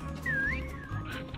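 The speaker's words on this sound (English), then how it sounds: "That damn whistle!" A whistle sounds in the Call of Duty WWII video game during its Days of Summer event, a single rising and falling tone heard over a low game background.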